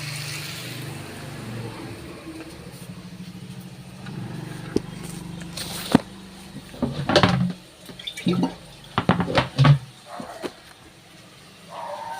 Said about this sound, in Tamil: இது கொஞ்சம் தண்ணி ஊற்றி வேக வைப்போம்